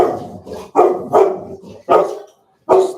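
A dog barking loudly indoors, five or six sharp close barks in an irregular rhythm with short pauses between them, no other voices.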